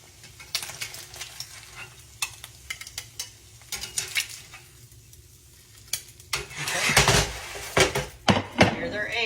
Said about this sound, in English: I'm going to take up my eggs here